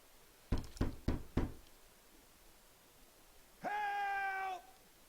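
Four sharp knocks on a wooden door in the video game Sherlock Holmes: The Devil's Daughter, close and evenly spaced, followed after a pause by a brief tonal sound with no speech.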